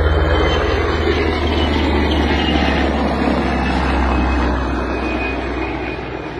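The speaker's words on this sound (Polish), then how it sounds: "Słyszymy teraz helikopter, prawdopodobnie helikopter policyjny" Police helicopter flying overhead above the Oder riverbank, a loud continuous rotor and engine drone that stays steady and slowly fades a little, with no talking.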